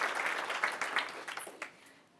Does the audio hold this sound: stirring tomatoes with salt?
no